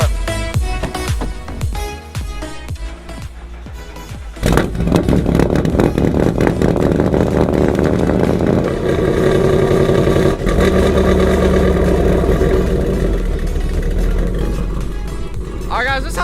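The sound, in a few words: Ford Mustang GT engine rough idling, missing air intake box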